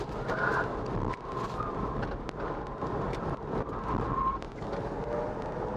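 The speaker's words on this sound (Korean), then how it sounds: "이런 식으로 타이어가 미끄러지는 소리를 들을 수는 있지만" Tires squeal in a couple of short, rising bursts over the steady rumble of a Chevrolet Bolt EV being cornered hard, with no talking.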